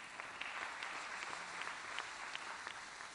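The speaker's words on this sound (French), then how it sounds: "On les applaudit, tous nos frères." An audience applauds at the opening ceremony of an arts market in Côte d'Ivoire, a sustained, fairly faint and distant patter of clapping from a large hall with no speech over it.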